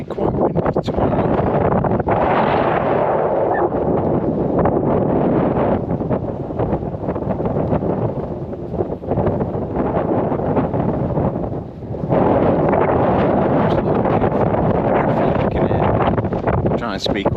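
Strong wind buffets the microphone outdoors along the West Highland Way in Scotland in March, a loud, constant low rumble with gusty swells and one brief lull, while someone talks underneath.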